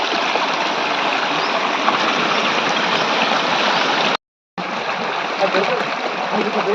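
A forest stream rushes toward a waterfall near Katkapur village, Raikal mandal, a steady broadband roar of flowing water that holds near and loud throughout, broken only by a brief total dropout near the end.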